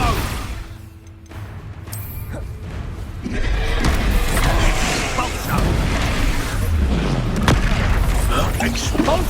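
Explosive Expulso spell blasts in the Hogwarts Legacy video game, a loud booming crash followed by sustained rumbling debris and chaotic combat noise.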